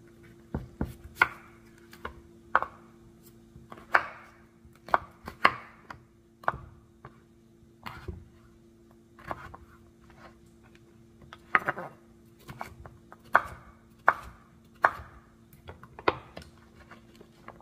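A knife cutting potatoes into bite-sized pieces on a cutting board for Cajun-style breakfast potatoes, steady sharp chops at about one per second, close and crisp with no talking.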